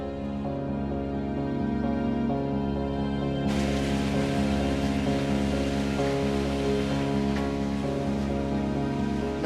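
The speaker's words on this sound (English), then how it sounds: "But today the water is limited to a shallow trickle." A shallow stream trickles through a cave, giving a continuous watery wash over a low steady hum that brightens partway through and stays level and close.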